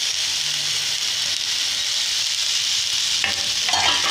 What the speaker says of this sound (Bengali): গুগলিটাকে ভালোভাবে ভাজা ভাজা করতে হবে।